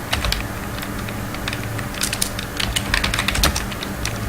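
Steady typing on a computer keyboard while writing a first HTML page, with rapid clustered keystrokes and a few louder taps running continuously at close range with no talking.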